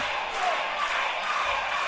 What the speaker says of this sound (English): The crowd are chanting for Sid